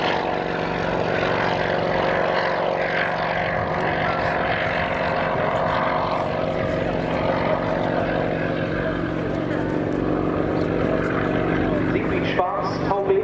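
Old helicopter flying at the RAF Cosford airshow: a steady, loud rotor and engine drone fills the whole stretch without a break, with a change in tone near the end.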